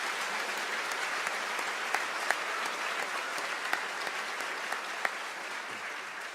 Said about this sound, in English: Please join me in another round of applause for our outstanding musicians